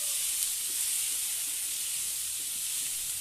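Boiled chana dal stirred into a pan of sizzling cooked aromatics for dal puri filling, giving a loud continuous hiss and sizzle that stays steady throughout, close up.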